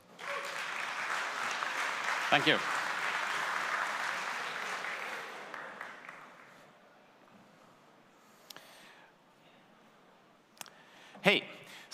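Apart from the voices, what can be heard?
audience applause for speaker at conference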